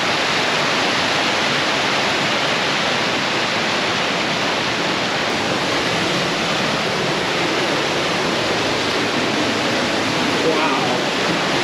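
A large volume of water rushes steadily after heavy rain near a campsite, a loud, constant broadband roar like a waterfall with no pauses.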